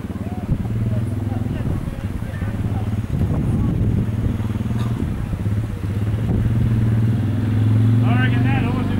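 A motorbike engine drones steadily near a horse dressage arena, loud and close throughout, with revving swells toward the end, mixed with clatter, wind and voices talking.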